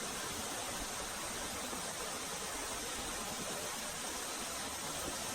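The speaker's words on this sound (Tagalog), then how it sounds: "Grabe na kasi wala nang tigil ang ulan" Heavy, unrelenting rain pours over floodwater in a dense, even roar that never lets up, with no voices over it.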